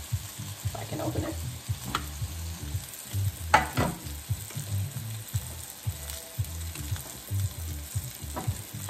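Apples sizzling and frying in a pan, a steady crackle broken by a few clattering stirs with a utensil, close and alone without talk.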